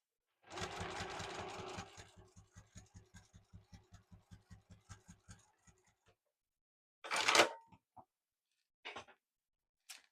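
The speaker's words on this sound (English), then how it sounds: "stitch down those long edges" A sewing machine runs in a fast burst and then slows into evenly spaced single stitches while stitching down the long edges of a car document case, followed by brief fabric rustles and handling noises close by.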